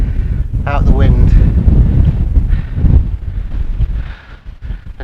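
Wind at a chilly outdoor campsite around 13 degrees, buffeting the microphone with a steady low roar while someone talks over it for much of the time.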